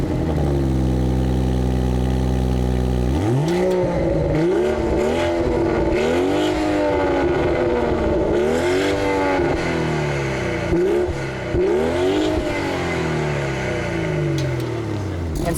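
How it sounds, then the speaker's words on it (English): A 2018 BMW X3 M40i's straight-six sport exhaust settles from a steady idle into a series of loud, close revs, each rising and falling sharply, with no voices. "the exhaust sounds pretty good. It's got that typical BMW straight six sound"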